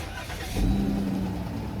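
A van's engine cranks briefly and catches with a short low rumble, then idles steadily without being fully started, heard up close with no talking.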